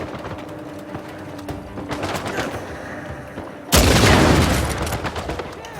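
Gunfire in the Uncharted 4 video game: scattered shots crackle at first, then a sudden loud burst of rapid fire breaks out and keeps rattling to the end.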